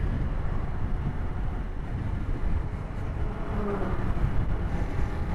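A rare Suzuki Inazuma 250cc twin motorcycle out on the road, its engine drone steady and continuous beneath heavy, blustery wind rushing over the microphone.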